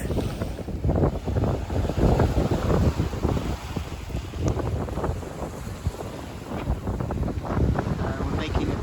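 Broadband rushing water and steady wind buffeting a microphone aboard a sailing boat at about 6 knots in 2.5 to 3 metre offshore waves, a continuous loud wash with surges throughout.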